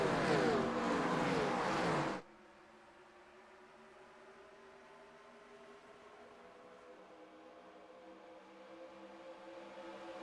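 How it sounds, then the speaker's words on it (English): Race cars in the iRacing sim accelerate through turns 1 and 2 at Daytona. A loud engine roar lasts about two seconds, then cuts abruptly to a faint, steady low hum. "Cars picking up speed as they work through turns 1 and 2"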